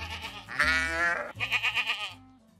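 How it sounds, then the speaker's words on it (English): Sheep bleat close by on a farm, a long wavering cry followed by a shorter pulsing, tremulous bleat, loud and clear with no talk. "the sheep are leisurely grazing in the farm"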